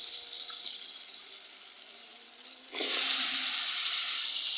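Sweet gourd (mittha lau) hits a hot pan of green chili and onion, a quiet background suddenly bursting into loud, steady sizzling frying that carries on to the end.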